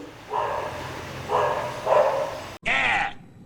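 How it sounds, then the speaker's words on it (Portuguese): A dog barks four times in quick succession, the first three as gruff, mid-pitched woofs and the last a sharper, higher yelp after a brief pause, fairly close and clear over a quiet room. "cachorro idiota"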